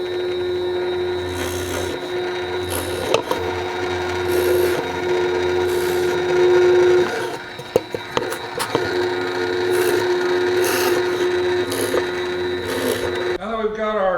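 A drill press with a Forstner bit bores counterbore screw holes in wood for a toolbox, giving a steady, close motor whine with a brief break midway and a voice at the very end.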